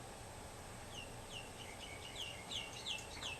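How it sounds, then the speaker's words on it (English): Birds sing outdoors with repeated bright chirping phrases, small and somewhat distant, over a quiet steady background hum. "Oh, listen to pretty birds."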